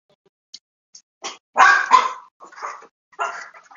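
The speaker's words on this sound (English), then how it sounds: "Just a minute, my dog's barking." A dog barks in short bursts nearby, a few quick yaps followed by louder barks, with silence between them.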